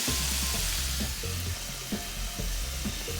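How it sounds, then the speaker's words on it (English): Continuous loud sizzling and crackling of chicken wings frying in hot oil, with occasional soft knocks underneath. "we have turned the chicken, and it is still frying up nicely on the other side"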